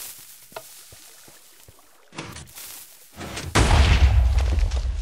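A few small clicks and knocks, then a sharp burst, followed by a loud, rumbling explosion as a TNT cannon fires in Minecraft, filling the end with deep, sustained booming.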